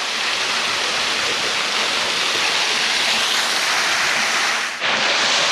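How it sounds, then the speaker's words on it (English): Fairfax Waterfall roars as a loud, steady, close wash of falling water, with a brief dip near the end and no voices. "The morning sun hitting the waterfall."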